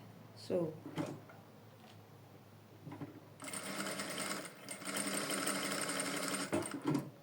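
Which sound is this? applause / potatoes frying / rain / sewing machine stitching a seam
sewing machine stitching a seam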